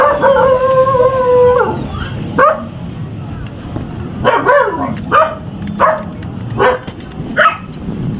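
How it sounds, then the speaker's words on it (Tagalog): Neighbors' dogs howl in a long, wavering cry, then several sharp barks follow at irregular intervals, fairly close and loud. "maingay yung mga aso rito, mga kapitbahay."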